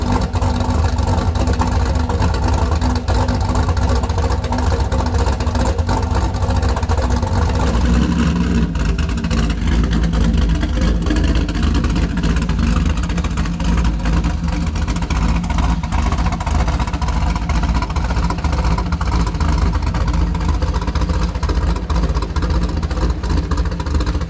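A Gen 4 LS V8 idles and warms up after a cam swap, a loud, continuous rumble close by that shifts slightly in tone partway through, with no talking over it.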